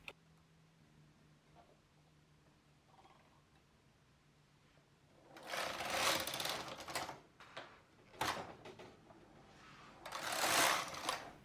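A knitting machine carriage runs across the needle bed, knitting rows of bulky yarn for slipper socks in the main yarn and tension. A quiet start gives way to loud, rushing mechanical passes with brief pauses between them.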